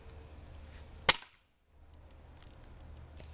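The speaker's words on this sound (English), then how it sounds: "I'm just going to shoot this at the fence." A homemade airgun fires a single sharp, loud crack at a fence, followed by a brief near-silence before faint background noise returns.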